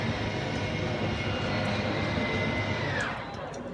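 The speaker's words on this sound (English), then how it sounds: "you'll just hear some whines from the motors letting you know they've reached their stall" The slide-out room motors of a 2022 RPOD 195 RV whine at stall: a loud, steady, droning mechanical hum that holds for several seconds, then a high whine bends downward and the sound eases slightly at the end.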